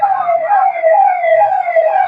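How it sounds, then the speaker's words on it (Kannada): An ambulance siren wails loud and close, holding a steady, slightly wavering two-tone pitch for the whole short stretch with no other sound over it. "ಆಂಬುಲೆನ್ಸ್ ಬಂತ ತಡಿ"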